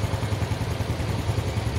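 A Honda RS 125 motorcycle engine runs close by with a bubbling, boiling-water noise, a low pulsing throb that repeats steadily throughout.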